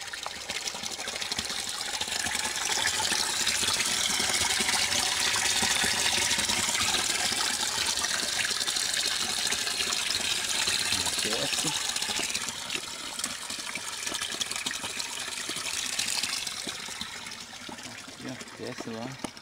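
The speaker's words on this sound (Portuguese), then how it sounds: "A água desce aqui, ó." Water rushing down a stream beside a bike trail, a steady broadband wash that stays loud and close throughout, with a voice talking briefly under it.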